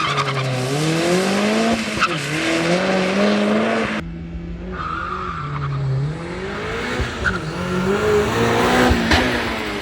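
A 500HP Mazda Miata doing a drag racing burnout: loud, close engine revving and sustained tire squeal with wavering pitch, a brief break mid-way, then more screeching tires and roaring engine, no voices.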